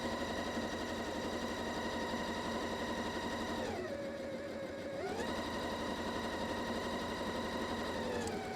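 A Juki sewing machine stitches fabric with a steady, even mechanical hum and rhythmic whir. The motor dips briefly in pitch midway, then resumes its smooth running.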